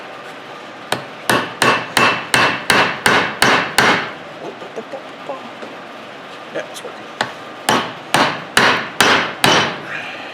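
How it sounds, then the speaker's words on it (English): A bigger hammer knocks a driveshaft part down during a Dodge Ram Cummins front driveshaft rebuild, landing a quick run of about ten loud metallic blows, then a pause and another burst of about six strikes, with brief talk in between. "bigger hammer time."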